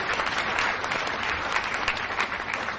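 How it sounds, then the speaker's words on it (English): A crowd at a cricket awards ceremony applauds steadily, with dense, sustained clapping throughout and no pause or break. "Give them another big round of applause,"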